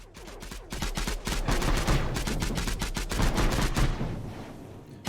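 Rapid gunfire from units in a real-time strategy game, a dense fusillade of sharp overlapping shots at a steady fast rhythm, loud and close, thinning briefly near the end before another shot.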